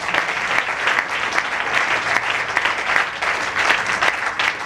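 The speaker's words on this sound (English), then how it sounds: "clap our hands this evening." Church audience claps their hands together in dense, continuous applause that stays loud and steady throughout, with no talk over it.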